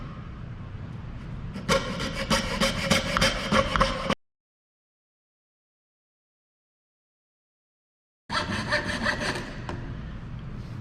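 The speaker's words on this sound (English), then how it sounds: "said that this saw pulls down. Okay, so that's how you're going to start it. Start it on your line." Crosscut hand saw pulling through wood along a marked line: steady rasping strokes for a couple of seconds, then a gap of silence, then the rhythmic sawing resumes, close and clear with no talking.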